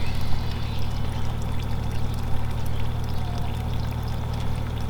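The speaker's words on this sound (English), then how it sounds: "I'll dribble a bit of water on some of these others." Water dribbled and poured onto potted plants, a steady close trickle running unbroken throughout over a faint low hum.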